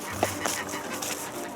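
Turkeys on a farm calling at morning feeding time, a few short honking gobbles spread over a second or two above a low background rumble, with no talking.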